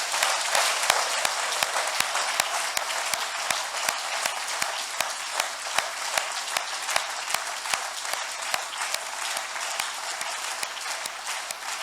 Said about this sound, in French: Est-ce qu'on peut applaudir le Seigneur pour sa lumière?